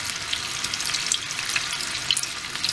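Cauliflower for Gobi Manchurian fries in hot oil with a steady, dense sizzle and scattered crackling pops, loud and close throughout with no talk.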